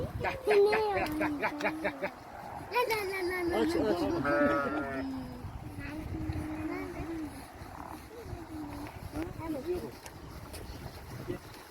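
Sheep and lambs in a hobby garden bleat near and far while a woman calls to them and talks softly throughout.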